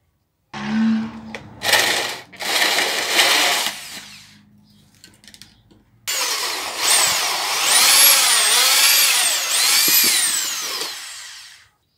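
A power drill with a hole saw bores into a hollow gourd in several bursts, with a whining motor and grinding cut, close and loud.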